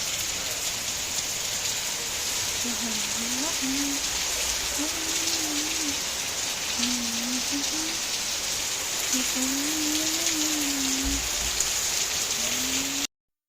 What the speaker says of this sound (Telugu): ఫుల్ వర్షం అంటే ఫుల్ వర్షం పడ్డది